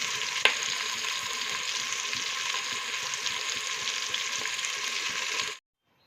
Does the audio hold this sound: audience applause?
no